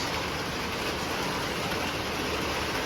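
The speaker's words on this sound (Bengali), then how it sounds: "পুরো বৃষ্টি শুরু হয়ে গেছে" Heavy rain pours down outdoors in a dense, unbroken roar that stays loud and even throughout, with no voices.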